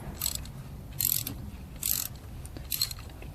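Socket wrench ratcheting while loosening a bolt on a Honda CB125F motorcycle, four short bursts of fast, light clicking with pauses between, close and fairly quiet.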